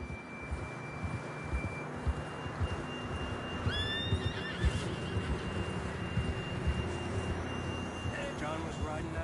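A horse whinnies in Red Dead Redemption 2, a faint high neigh midway through, set against a low outdoor ambience and game music tones, with a voice speaking quietly.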